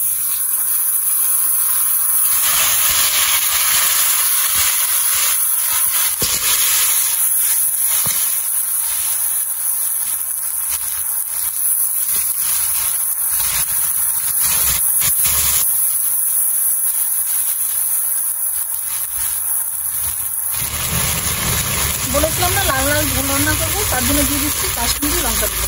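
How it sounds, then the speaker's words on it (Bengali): Ground spice paste sizzles and hisses in a hot pan while being fried for a fish curry with potatoes, a loud steady frying hiss filling most of the clip, with a voice speaking over the last few seconds. "মশলা দিয়ে ভালো করে কষে নেব, দিয়ে দিচ্ছি বেটে রাখা মশলা।"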